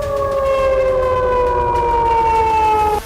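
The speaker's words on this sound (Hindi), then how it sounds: "शाम से सायरन बजने शुरू हुए, पूरी रात बजते रहे" Air raid civil defense siren wailing over a Russian city during a drone attack, a loud sustained tone holding steady and slowly sliding lower before cutting off abruptly near the end, with low rumble underneath.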